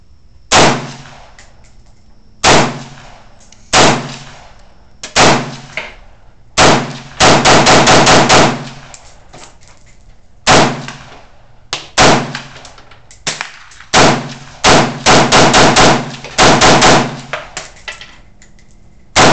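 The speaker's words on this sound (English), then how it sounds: "I'm gonna shoot the bottom target right here at the 25." AK-47 rifle fire at an outdoor shooting range aimed at a 25-yard target: loud single shots and rapid strings of shots in bursts, with short pauses between.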